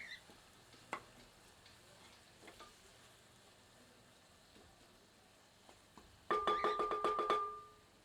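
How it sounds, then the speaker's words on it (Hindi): Onions with salt frying over medium heat in a pan, giving a faint, quiet sizzle with sparse stirring clicks, then a brief burst of rapid, bright metallic clinks near the end. "प्याज में आधा चाय का चम्मच नमक डालते हैं और पुनः इसे मध्यम आंच पर भूनते हैं"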